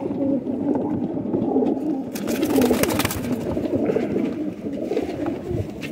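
A 14-year-old pigeon in a rooftop pigeon setup coos steadily and close by, its soft, throaty calls rolling on without a break over a low background murmur.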